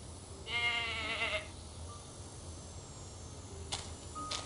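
A goat gives one loud, wavering bleat, then falls quiet against a soft outdoor background broken by a couple of brief sharp clicks.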